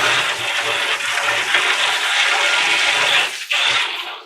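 Cold water runs steadily over a stainless steel honey extractor, a loud, continuous splashing rush that fills the whole stretch, briefly breaking off near the end before resuming.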